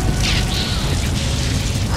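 An enemy AC mech blowing up in Armored Core VI, heard as a loud, sustained mechanical roar and rumbling boom filling the whole moment, with a hissing burst near the start.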